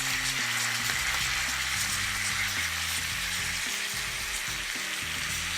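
Mussels simmer in a garlic butter sauce with oyster sauce and fried garlic, giving a steady, close sizzle and bubbling that runs unbroken from start to finish with no voices over it.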